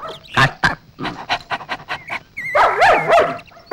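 A dog pants in quick, close bursts of breathy huffs, with a few whimpering, whining tones mixed in toward the end.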